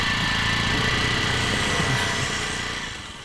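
A motorbike engine runs with a steady mid-pitched drone, close and fairly loud, then eases off near the end.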